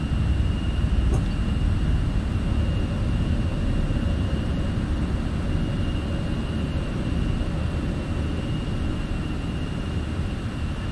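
Airbus A320 engines roar steadily through a takeoff run in Microsoft Flight Simulator, a dense, continuous rumble that stays loud and even from start to finish, with no one talking.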